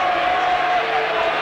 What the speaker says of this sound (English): The crowd lets the touch judge know